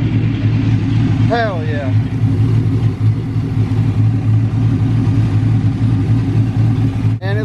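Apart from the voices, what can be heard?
project car engine running after being started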